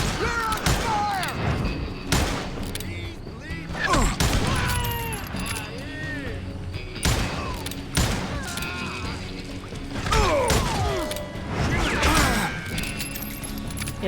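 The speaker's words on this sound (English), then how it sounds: "Who's shooting at you? You're under fire!" Gunfire rings out in the Wild West shooter game Call of Juarez Gunslinger. Repeated shots and impacts crack through a busy mix of music and effects, with voices under the fighting.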